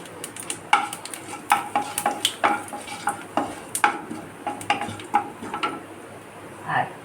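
Black cumin and a dried chilli are tempered in hot oil in a home kitchen, giving a soft sizzle under repeated sharp spatula and pan clinks that come in an irregular rhythm, close and fairly quiet.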